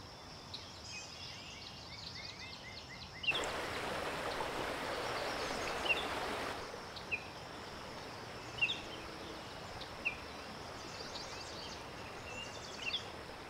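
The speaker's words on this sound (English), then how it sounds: "my birds are coming from above, and the river is on the left side of the listener" Flowing river stream with birds chirping above in a three-dimensional spatial mountain atmosphere, a soft continuous water rush broken by scattered faint bird calls, with a louder wash of water partway through.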